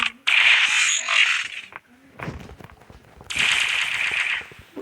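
Rapid bursts of gunfire in the cop-and-robber shooting game CopNRobber: two long loud automatic volleys bracket a quieter stretch of scattered shots and clicks, with no talking.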